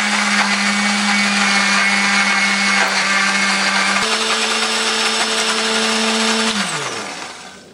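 Kitchen blender grinding shallots, garlic, ginger, coriander and turmeric with a little water, a loud steady motor whir that holds for several seconds, steps up in pitch briefly, then winds down at the end.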